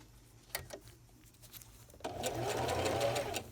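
Close and steady, a sewing machine stitches a seam on a double-layer fitted cloth face mask, starting after a second of soft fabric handling and light clicks, then running evenly to the end.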